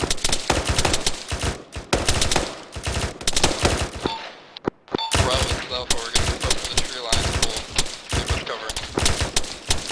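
Rapid rifle and machine gun fire in an Arma 3 squad assault, dense continuous bursts of shots running almost the whole time with a brief lull midway, loud and close, with voices talking over it.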